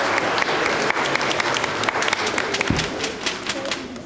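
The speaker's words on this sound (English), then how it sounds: "You can clap for yourselves." Children applaud themselves after singing at a Festival of Lights event, a steady, moderately loud patter of many small hands clapping for several seconds, close by.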